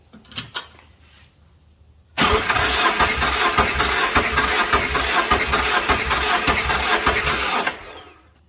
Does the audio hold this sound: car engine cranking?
yes